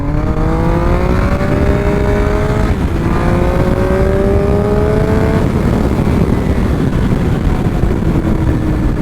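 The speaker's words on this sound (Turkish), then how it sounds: "Bu motor çok acayip bir motor arkadaşlar." Triumph Speed Triple RS 1050 three-cylinder motorcycle engine, loud and close, holding steady revs with rising harmonic tones, a brief gear-change dip, then settling into a sustained drone.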